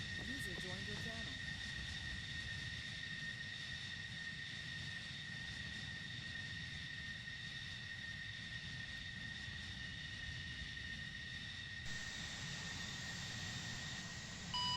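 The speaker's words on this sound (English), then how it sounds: "we're taxiing and taking off now" An aircraft engine taxiing and taking off, heard as a loud, steady droning roar with sustained high whining tones that continues without a break, while voices talk over it.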